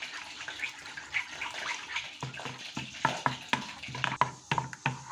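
Beaten eggs being stirred into pastilla mixture in a pan, giving wet, slapping scrapes and clicks that grow more pronounced and rhythmic toward the end, close and moderately loud.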